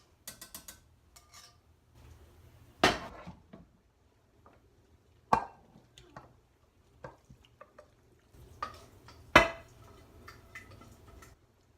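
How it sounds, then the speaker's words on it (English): Brussels sprouts are tossed in sauce and moved into a small casserole dish, producing sparse utensil clinks and taps against the dish, with a few sharper knocks over quiet gaps and soft scraping. "gently toss them in that, and then transfer them to a little casserole dish to put in the oven"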